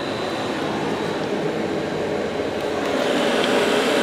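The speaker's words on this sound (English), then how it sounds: "Notice your blower's running." A car's AC blower motor runs under PWM speed control, giving a steady, loud whooshing roar with a faint high whine, constant throughout with no talking.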